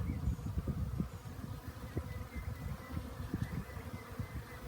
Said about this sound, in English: Maybe you can see all the bees.